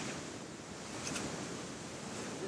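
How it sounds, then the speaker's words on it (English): Ocean waves wash steadily onto a beach at dawn, a continuous close roar of surf with wind noise over the microphone and no voices. "Just gonna wait for those waves to come back in."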